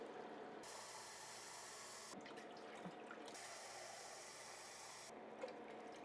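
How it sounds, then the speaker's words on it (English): Five cups of water pour in a steady, full rush into a cooking pot of Afghan shola goshti with tomatoes. The flow stops briefly twice and resumes, close and continuous. "We're going to add the water. 5 cups of water."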